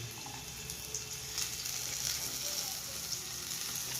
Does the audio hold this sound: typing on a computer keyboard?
no